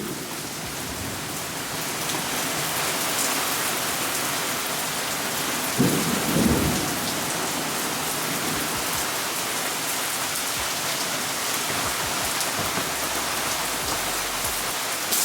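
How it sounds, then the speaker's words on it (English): A heavy thunderstorm with steady, dense rain hissing on surfaces throughout and a rumble of thunder rolling in near the middle. "thunderstorm is truly one of the craziest thunderstorms I've ever seen because the lightning is so bright"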